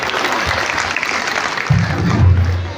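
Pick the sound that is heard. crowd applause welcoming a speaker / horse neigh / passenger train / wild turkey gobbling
crowd applause welcoming a speaker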